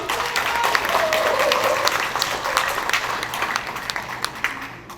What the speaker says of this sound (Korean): 절대로 그렇지 않다는 분 큰 박수 한번 보내주시기 바랍니다.